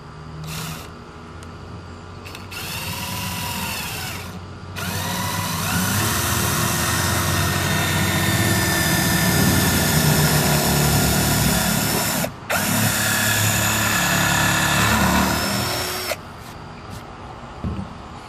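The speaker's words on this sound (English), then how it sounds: "drill a small little pilot hole at an angle for us to attach our nails with" Power drill boring small angled pilot holes into 2x4 lumber for a farmhouse bench, a steady close whir held for long stretches with brief stops and restarts.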